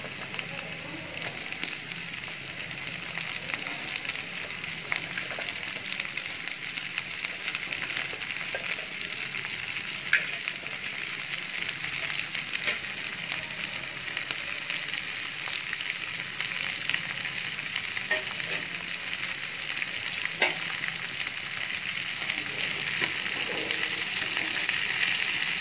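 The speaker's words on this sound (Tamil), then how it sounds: "அவரைக்காய் கொஞ்சம் வதங்கணும், அது வரைக்கும் லைட்டாக வதக்கி விடுங்க." Broad beans sautéing with onions in a frying pan, a continuous moderate sizzle and crackle with occasional faint stirring clicks over a long stretch, no one speaking.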